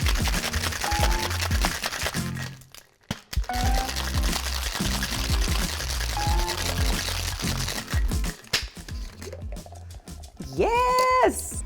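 An espresso martini is shaken hard in a cocktail shaker full of ice, a close, steady rhythmic rattle and slosh of ice against the tin lasting several seconds, briefly pausing midway.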